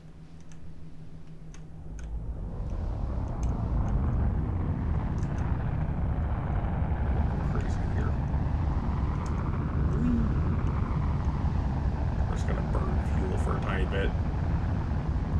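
Aircraft in a flight demo game taking off, its engine drone swelling within the first few seconds into a loud, steady roar that holds to the end, with faint ticking clicks on top.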